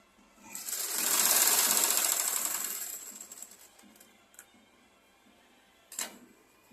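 A sewing machine joining blouse pieces runs in one fast whirring burst of stitching lasting about three seconds, then winds down, followed by a few faint mechanical clicks and a sharp clack.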